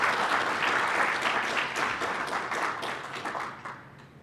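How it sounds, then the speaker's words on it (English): Conference audience at the Africa Pension Supervisors Conference 2022 gives a dense, sustained round of applause, close and loud, tapering slightly toward the end. "So please, another big round of applause"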